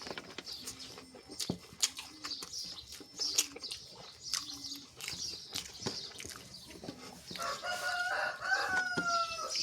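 A rooster crows amid soft clucking and other fowl calls, with repeated short calls followed by a louder, drawn-out crow near the end, set against quiet outdoor background noise.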